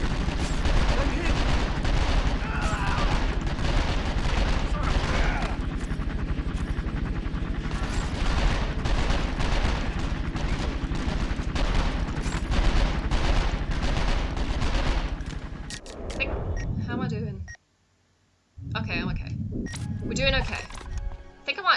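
Gunfire in the video game 24: The Game: sustained bursts of shots, loud and close, running for most of the stretch before a sudden drop to near silence and a short return of shooting, with a voice speaking amid the firing.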